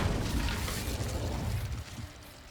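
A fiery Incendio spell blast from Hogwarts Legacy erupts as a loud, roaring burst of flame with rumbling low end, sustained for a couple of seconds before easing off slightly.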